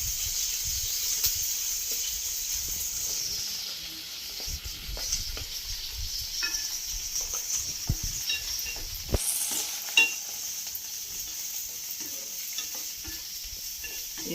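Onions sizzling and frying steadily in a pan while making dondakaya (ivy gourd) pachadi chutney, with occasional stirring scrapes and small pops over the constant hiss.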